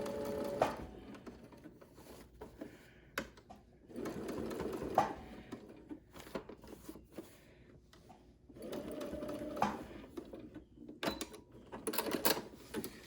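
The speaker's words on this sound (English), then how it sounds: "you take your sewing machine and kind of sew across the elastic" A home sewing machine stitches back and forth across elastic while making a cloth mask, running in several short bursts with quiet pauses between, close and fairly soft, with no talking.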